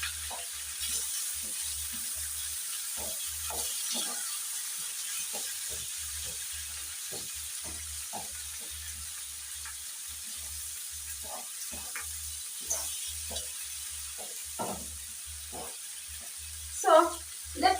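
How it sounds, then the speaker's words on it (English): Tomatoes cooking down in a pan for chicken gizzards give a soft, steady sizzle, with scattered clicks of stirring and a low intermittent hum, and a few louder clatters near the end. "I can cook these tomatoes until they are broken down"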